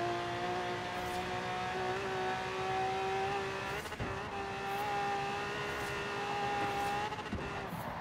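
Yellow Camaro Z28 engine pulling hard during a street race, a steady loud drone with rising harmonic whine, continuous throughout with brief dips around mid-clip.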